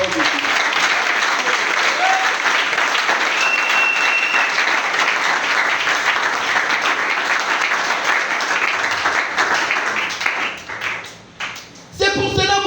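A church congregation applauds the word of God with loud, steady clapping that carries on for several seconds before tapering off near the end, with a voice briefly emerging.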